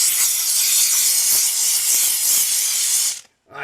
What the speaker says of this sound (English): I enjoy steam cleaning bathrooms.